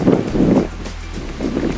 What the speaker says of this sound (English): Winds are cranking. It is cranking.